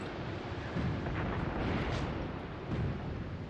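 In the Graviteam Tactics war game, tank cannon shells strike an enemy tank's turret, heavy muffled impacts booming over a constant dense roar of battle noise.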